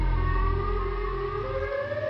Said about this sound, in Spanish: ¡Que vienen los cabezas de sirena!